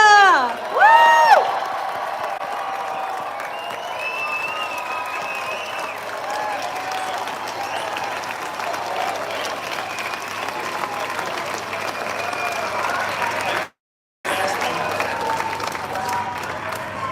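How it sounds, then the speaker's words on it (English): Crowd at an evening pro-life rally in Perth bursts into cheering and sustained applause, with whoops and shouts rising over steady clapping and a brief dropout near the end. "Big cheer!"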